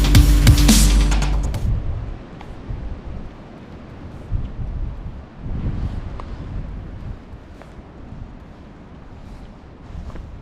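Wind blows near the summit of Pine Mountain in Georgia, starting as a loud gusty blast against the microphone. It then settles into a low, rumbling buffet that rises and falls for several seconds with no talk.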